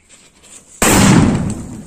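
A single sharp Diwali firecracker bang after a quiet moment, loud and close, with a crackling tail that trails off.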